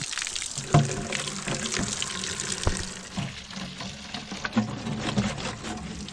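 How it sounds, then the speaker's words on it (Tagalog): Water runs from a tap outdoors near rice fields, a steady splashing flow with uneven gurgles and a few sharper knocks, moderately close and with no talking. "Running water."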